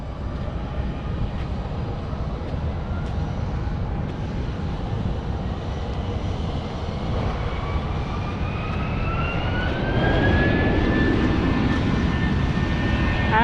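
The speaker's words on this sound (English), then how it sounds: "There's Spirit Airlines over there taking off or holding short." Jet airliner engines roar in a steady, distant rumble that swells gradually as a Spirit Airlines plane takes off or holds short at Phoenix Sky Harbor airport, with no voices over it.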